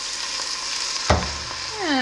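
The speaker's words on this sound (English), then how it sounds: "I'm going to put about a cup of red wine in here." Red wine poured into a hot pot for a pot roast, a sudden burst of sizzling as it hits the hot surface, settling into a steady frying hiss with a short clank near the end.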